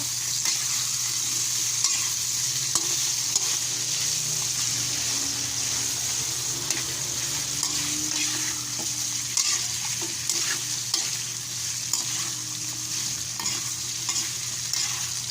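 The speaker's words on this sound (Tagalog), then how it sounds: "yung pork na pinalambot ko. Haluin natin kaunti." Tenderized pork and vegetables are stirred in a frying pan, a steady close sizzle and bubbling frying hiss with light spoon scrapes throughout.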